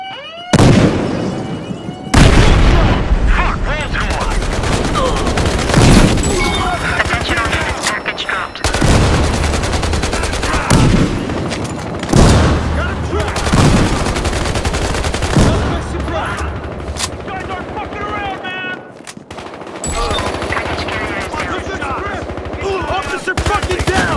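Dense gunfire and booming grenade explosions from the video game Battlefield Hardline, with loud bursts of automatic fire and heavy blasts following one another in rapid, irregular waves.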